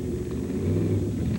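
Chevy-powered monster trucks at a 1990 show in Bowling Green, Ohio give a brief, deep, loud engine rumble that swells slightly as they rev.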